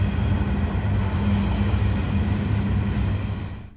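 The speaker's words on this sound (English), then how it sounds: "Now at 60 coal hoppers, this train just keeps going and going and going." A long coal freight train hauling hoppers rolls past a station in a steady, loud rumble of wagons that holds throughout, then starts to fade at the very end.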